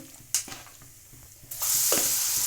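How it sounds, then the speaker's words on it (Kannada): Food fries in a pan for a quick homemade recipe, a low sizzle with a couple of sharp stirring clinks, then a burst of loud steady hissing as more ingredients hit the hot oil. "ಸ್ವಲ್ಪ ಫ್ರೈ ಮಾಡೋಣ ಇದನ್ನೆಲ್ಲ ಎಲ್ಲ ಚೆನ್ನಾಗೇ ಫ್ರೈ ಆಗಿದೆ"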